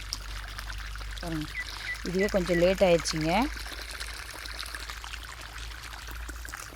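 Irrigation water pours steadily into a maize field, a continuous close rushing trickle under someone speaking, with a brief birdlike honking call partway through.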